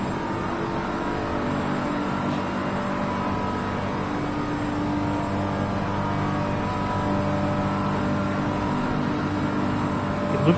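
A racing car engine heard on board in a console racing game endurance race on the Nürburgring Nordschleife, a steady droning roar with slight shifts in pitch, continuous and close throughout.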